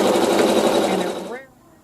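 A sewing machine stitches quickly through fabric and batting in a fast, buzzing run of needle strokes, close and clear, then slows and stops.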